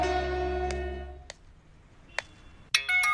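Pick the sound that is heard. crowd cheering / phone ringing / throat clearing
phone ringing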